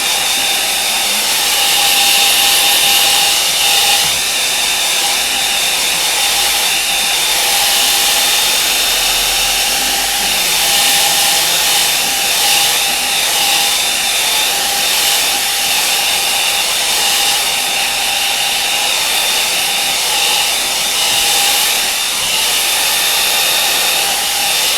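Hair dryer blowing steadily and loudly on a watercolour painting of Octagon Lake, Stowe, a continuous whooshing roar with a motor whine that holds level throughout with no talking.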